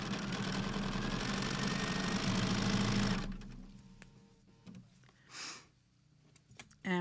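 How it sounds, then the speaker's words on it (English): A sewing machine runs steadily for about three seconds, stitching fabric scraps into crumb quilt blocks, then stops, leaving light handling clicks and rustles. "I'm just sewing them together"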